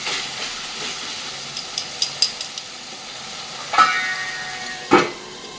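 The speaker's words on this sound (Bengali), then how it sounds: "এবার ঢাকা দিয়ে কষাতে দেবো।" Curry fries under a lid in a pan with a low, steady sizzling hiss. A few light clicks break in, and two louder clunks come near the end.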